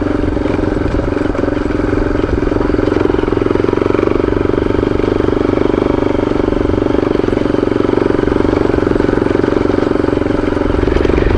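Small dirt bike motorcycle with a 420 chain riding on a forest service road near Suches, Georgia: a loud, close, steady engine drone with clattering mechanical noise, running without pause throughout.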